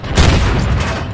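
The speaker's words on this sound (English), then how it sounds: "Took a shot at range." A tank cannon fires at range in World of Tanks, a single heavy boom with a rolling, dense blast that fades out over about a second.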